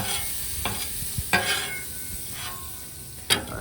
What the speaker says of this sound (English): I just threw down a big pat of butter, just kind of spreading that around a little bit